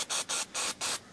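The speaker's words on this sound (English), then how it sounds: "And I just spray it onto a rag." Auto prep surface cleaner sprayed onto a rag from a trigger bottle: four quick hissing bursts in a steady rhythm, close and fairly loud, with brief gaps between pumps.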